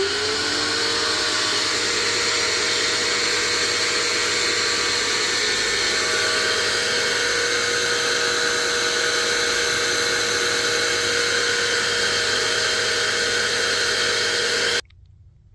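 A cheap $69 Harbor Freight pressure washer runs with a foam cannon, giving a loud, steady motor whine and spray hiss that hold constant for the whole stretch before cutting off abruptly near the end.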